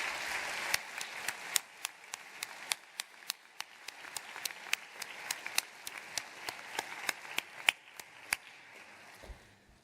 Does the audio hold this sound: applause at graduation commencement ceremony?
yes